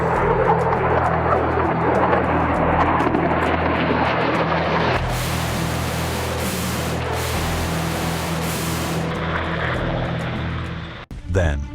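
A V1 flying bomb's pulsejet engine streaks overhead, a loud, steady droning roar that dominates throughout, swelling in a brighter rush near the middle before thinning out as it passes.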